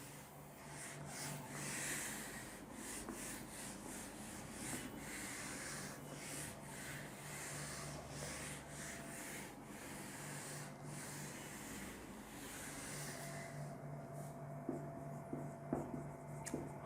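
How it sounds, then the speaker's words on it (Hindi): Steady scratching of a pen across paper as a heading is handwritten during a chemistry lesson, with continuous strokes and small pauses, close and fairly quiet over a faint room hum. "तो हेडिंग लिखेंगे हॉल्म सिग्नल।"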